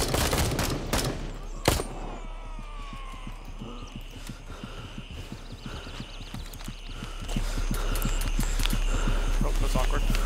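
Rapid video game gunfire crackles in dense, steady bursts at mid distance, with a sharp close shot early on and continuous shooting running through the whole stretch.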